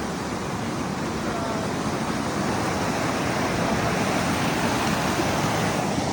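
Glacial meltwater rushes loud and steady near waterfalls on the Wonderland Trail at Mount Rainier, a dense, unbroken roar filling the whole clip with no breaks.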